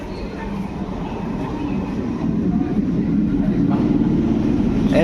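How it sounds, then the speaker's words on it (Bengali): A train pulling into platform 2 at Nabadwip station, a low continuous rumble of wheels and carriages that swells slightly as it draws near, with faint platform noise and voices underneath. "ফাইনালি আমাদের ট্রেন আমাদের স্টেশনে পৌঁছে গেছে"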